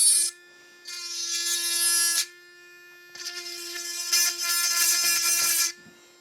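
A MelodySusie SM320G electric nail drill (e-file) files around crystals on a gel manicure, giving a high, steady motorized whine in two bursts separated by a short pause, close and clear.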